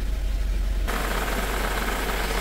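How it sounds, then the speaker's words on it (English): A cold four-cylinder car engine idles steadily and close up, a low, even rumble that continues without a break. "Here is how the engine is running."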